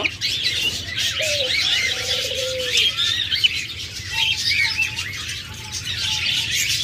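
Caged pet birds such as lovebirds, budgerigars and cockatiels chirp and squawk in a steady busy chorus nearby, with occasional whistled calls over a constant background.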